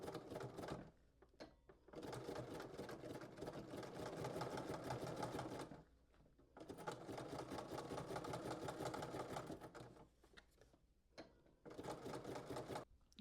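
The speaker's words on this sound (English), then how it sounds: "We're only going to be stitching the elastic together, and then we're going to slip stitch that opening closed. I'm going to be using a zigzag stitch." A home sewing machine runs a zigzag stitch over elastic in three sustained bursts of steady whirring, broken by short pauses, close by with no talking.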